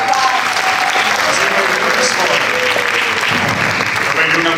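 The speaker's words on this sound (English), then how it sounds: "Let's give Jim Johnson a round of applause" Sustained, dense applause from an audience for Jim Johnson at a talk about Major Attaway, loud and steady throughout with some crowd murmur mixed in.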